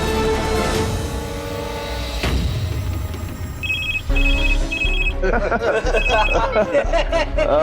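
A telephone rings in short repeated electronic bursts while people talk and music plays underneath.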